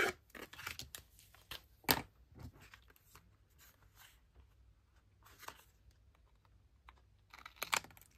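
Intermittent snipping and rustling of scissors cutting paper scraps into a tag shape, in short bursts with quiet gaps between, close and fairly soft.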